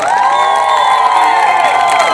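Festival audience in Sandovo cheering and clapping, a continuous loud roar of hands and raised voices with a faint tonal hum running underneath throughout.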